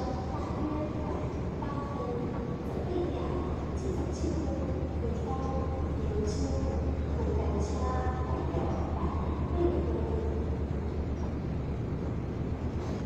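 R122 diesel-electric locomotive hauling a power car and six folding-door Chu-Kuang express coaches passes Zuoying old city station, a steady low engine drone and rail rumble with intermittent higher squeals.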